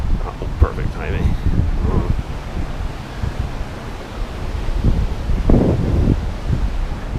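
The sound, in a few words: fast-flowing high water of the Willamette River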